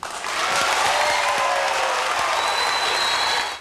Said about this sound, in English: But does Nelson Mandela win applause simply because he's Nelson Mandela?